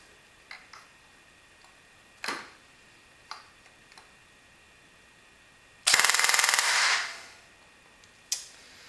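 ARES Amoeba airsoft rifle with upgraded spring and air nozzle firing a short full-auto burst of rapid, evenly spaced shots in a quiet room, followed by a motor whir winding down, with a few single clicks before and after.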